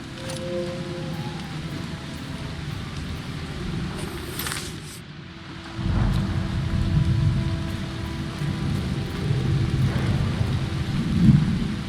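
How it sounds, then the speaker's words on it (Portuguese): Heavy rain with rolling thunder in the video game Season: A Letter to the Future, a steady downpour that swells louder partway through, with a low rumble underneath and no talking. "Tá ficando mais forte, parece essa chuva"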